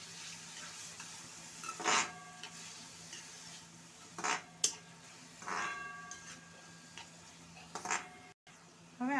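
Green chilies and tomatoes stirred in a pan, several distinct scraping strokes spaced a second or two apart over a faint soft sizzle, quiet and close with no voices.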